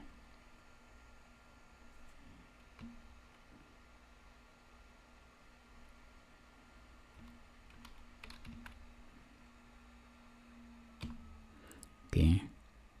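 Close-up typing on a computer keyboard produces faint scattered key clicks over a steady electrical hum, ending with a louder burst of clacking near the end.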